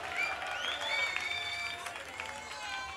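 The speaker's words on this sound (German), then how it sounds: "das ist schon mal ein schöner Applaus" Crowd at the Hanfparade 2014 in Munich applauding a performance, a lively patter of clapping with some cheering, while a piercing whistle-like tone and faint voices ride over it.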